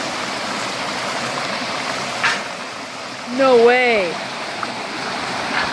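Water from a stream flows steadily near a waterfall, a broadband rush running under people talking, with a brief exclamation partway through.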